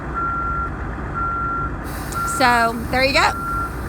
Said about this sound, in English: go to the inside of the bus so we can turn the beeping off